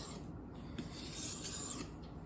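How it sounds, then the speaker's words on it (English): A kitchen knife drawn steadily across a sharpening stone, a continuous gritty rasping that rises and falls with the strokes, close and moderately quiet with no talking. "Now the knife sharpening part."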